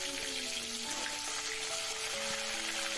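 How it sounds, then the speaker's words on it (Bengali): Shrimp fry in hot mustard oil in a pan, giving a steady, even sizzle for a few seconds with faint overlapping tones in the background and no voices. "তেলটা গরম হয়ে গেলে চিংড়ি মাছগুলো ভেজে নেব"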